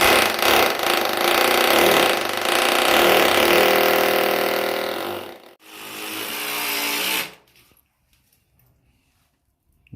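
A power drill runs loudly while a toilet is being replaced, a harsh sustained whine for about seven seconds with a brief break before it stops abruptly, leaving near silence.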